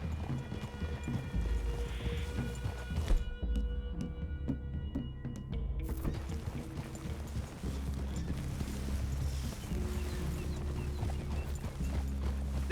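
Horses trotting in Red Dead Redemption 2 at a woodland clearing, a steady, continuous clip-clop of several hooves at moderate distance, with no talk.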